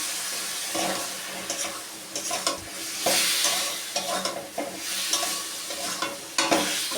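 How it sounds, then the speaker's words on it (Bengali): Potatoes and spice paste stir-fried in a pan with a little water sizzle loudly and continuously, while repeated spatula scrapes and stirring clatter surge and fade across the noise. "ভালো করে কষিয়ে নেব।"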